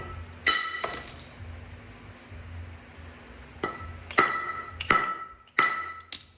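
Several sharp stone-on-stone strikes knapping Flint River chert, one early then four in quicker succession, each a bright crack with a ringing tail.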